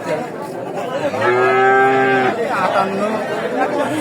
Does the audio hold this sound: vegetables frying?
no